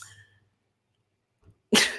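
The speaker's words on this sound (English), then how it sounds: "Sometimes when these dogs bark, they sound like they're getting like choked out." A dog gives a single sudden, harsh, choked-sounding bark close by, loud after a near-silent pause, following a faint earlier rumble.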